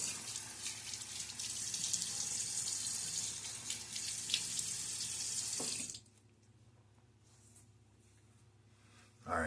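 A bathroom tap runs steadily for about six seconds as a bright, hissing stream filling the basin during face washing while shaving, then shuts off, leaving quiet dripping and faint room noise.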